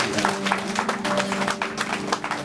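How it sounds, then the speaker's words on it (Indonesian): Applause from guests at a Christian wedding vow ceremony, a dense, steady burst of many hands clapping close by throughout. "Yang tepuk tangan."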